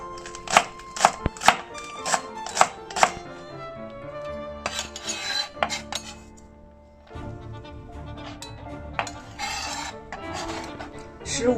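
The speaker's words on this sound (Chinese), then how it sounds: "2根葱，咱们把它切成细粒子。" Scallions chopped into fine pieces on a cutting board, a quick run of sharp knife taps at first, then scraping and softer handling with a faint clink of kitchenware.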